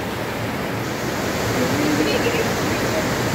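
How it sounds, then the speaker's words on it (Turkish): Yayalı waterfalls, water gushing out between rocks, a loud, dense, continuous roar of rushing water close by and unbroken throughout. "Evet, Yayalı Şelalelerinin ikinci ayağındayız."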